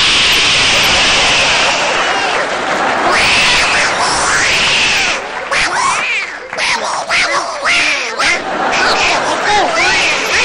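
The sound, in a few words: people imitating angry cats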